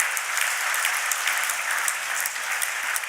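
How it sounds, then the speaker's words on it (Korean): An audience at a church gathering applauds, a steady, dense round of clapping from many hands that holds at an even loudness for a few seconds without voices. "아산교회를 위해서 박수 한번 보내주시기 바랍니다."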